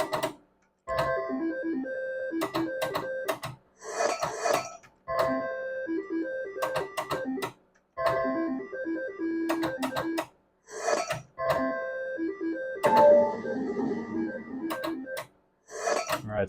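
Slot machine repeating its spinning jingle, bursts of bright electronic tones and clicking reel stops separated by short pauses, several cycles in a row, close and clear without talk.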